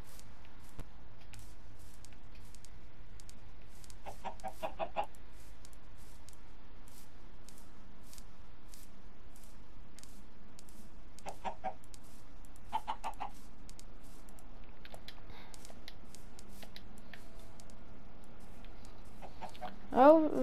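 Chickens in the Minecraft video game give short clucking bursts at intervals over a low background hum, with one brief louder call near the end.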